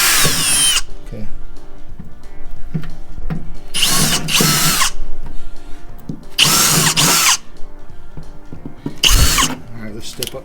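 A big power drill bores holes during a B&W Turnoverball gooseneck hitch install on a 2022 Chevy 2500HD, whining loudly and close in four strong bursts over a steady background rumble.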